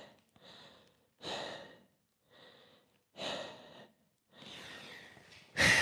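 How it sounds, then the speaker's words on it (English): Deep belly breathing during a karate stretching exercise: several slow, audible inhales and exhales, close and alone, each lasting about a second with short pauses between. "Deep breathing into your belly."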